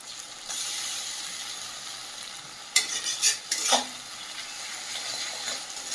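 Onion fries with ginger garlic paste for a goat meat curry, a soft steady sizzle near the pan with a short burst of spatula scraping and clatter midway, no voices.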